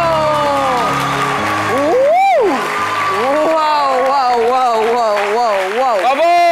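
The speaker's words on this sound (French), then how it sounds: "on l'applaudit encore, s'il vous plaît" A studio audience at a midday talk show applauds a young student reader, a dense wash of clapping running underneath loud voices and exclamations throughout.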